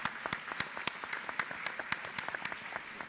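An audience applauds the panelists with steady, moderately distant clapping that carries on throughout.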